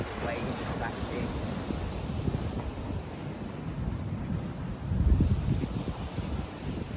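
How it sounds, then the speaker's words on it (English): Ocean waves wash onto a shore under steady wind buffeting the microphone, with a surge of surf swelling louder midway through. "Listening to the shores, listening to the waves crashing."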